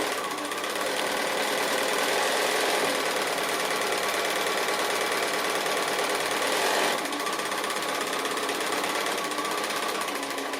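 A sewing machine runs steadily, stitching a foundation-pieced quilt block for a Tasty Treats pattern, a continuous close mechanical whir with a slight shift in pace partway through.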